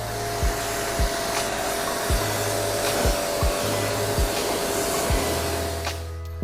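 Yard Force EW N15X electric pressure washer rinsing at raised nozzle pressure, a steady loud hiss and motor whine with a regular pulsing beat roughly every second, running alone throughout.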